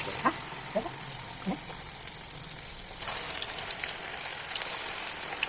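Maize flour fritters (makka garelu) dropped into hot oil, giving a steady crackling sizzle with a few soft thuds early on, then a fuller, denser frying hiss after a few seconds, close and fairly quiet.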